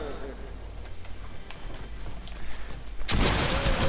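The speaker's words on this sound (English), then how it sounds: "I hear a grenade somewhere." A grenade goes off in a video game: a sudden loud burst of noise near the end cuts through faint ambient game sound and scattered clicks.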